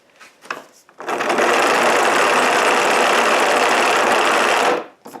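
A 12-volt motor hand-cranked as a generator whirs up into a loud, steady, rough mechanical drone for about four seconds before winding down, close and with no talk.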